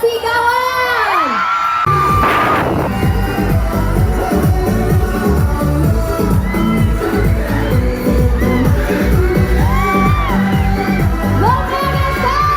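A large live audience cheers, whoops and screams loudly and continuously for megastar Sharon Cuneta, a dense roar of voices with bangs and shouts running through the whole stretch.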